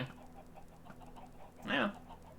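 Chickens in a video game (Spellbound Caves) give a brief, loud squawking cluck burst near the end, over a low steady game background hum with faint pulsing tones.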